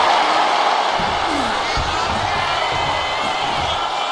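A virtual arena crowd in a WWE 2K wrestling video game roars and cheers steadily and loudly, with a few thuddy impacts and a commentator's voice mixed in under the noise.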